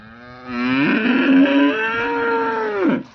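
A calf moos once in a long, loud, drawn-out call with a rising then steady tone, close by on a farm in Hareg village, Shrirampur, Ahmednagar district, heard alone without talk.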